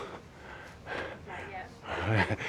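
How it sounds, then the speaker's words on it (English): Heavy, labored breathing from someone on an uphill hike in Guatemala, with repeated loud gasping breaths and snorts that swell and fade close to the microphone. "I'm already breathing heavy."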